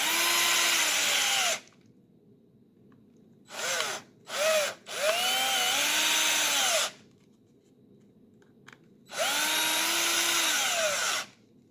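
A cordless RZTK RDE 1220Li drill-driver runs in bursts while driving four screws into its own reassembled housing: a long opening whine, two short blips, a sustained run, then a final long run, close and loud with pauses between.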